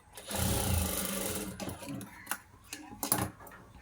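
A sewing machine stitches a blouse, running in a steady close burst before breaking into shorter, uneven runs and clicks, with a voice speaking over it.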